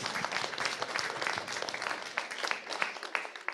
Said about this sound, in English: And now can we have a round of applause for all of you